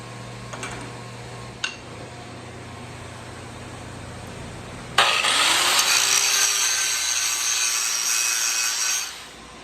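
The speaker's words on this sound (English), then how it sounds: "So just grind them at the same time." An angle grinder working two nearly identical steel pieces at once for an S10 pickup traction project: light scraping at first, then a loud, steady, close grinding whine that runs several seconds before stopping.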